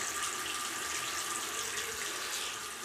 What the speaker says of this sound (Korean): 갑자기 가끔 화장실에 물소리 날 때 있어